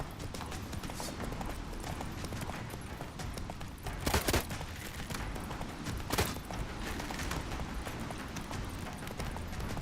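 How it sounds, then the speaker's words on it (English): Hooves clip-clop rapidly as a horse gallops in The Witcher 3 video game, a steady drumming rhythm with brief louder bursts, close and fairly quiet, with no talking. "Come on, Roach."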